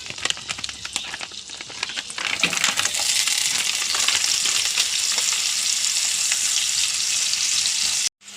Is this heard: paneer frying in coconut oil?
yes